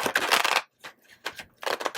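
Tarot cards shuffled by hand in quick riffling bursts, with two longer flurries separated by a few lighter flicks, close up and fairly quiet.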